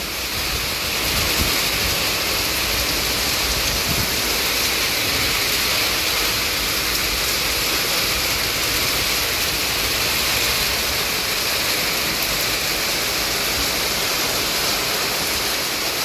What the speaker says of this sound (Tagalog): ulan na sinabayan ng hangin. Malakas din yung hangin guys.